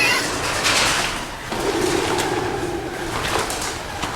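Soft bird cooing echoes inside the Ingersoll Mine in South Dakota, low murmuring calls over a hollow, rumbling background.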